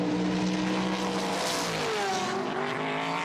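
Le Mans prototype race cars at the 2014 24 Hours of Le Mans roar past trackside in a loud, continuous engine wail, pitch sweeping as they approach and pass close by, with no talk.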